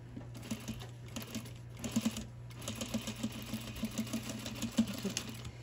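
A sewing machine runs steadily, stitching a zipper into denim, its rapid needle rhythm pulsing over a constant motor hum, close and moderately loud with no talking.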